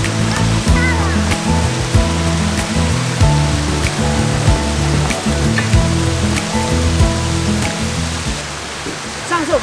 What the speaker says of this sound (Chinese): 沿岸有岩石积水，然后这边瀑布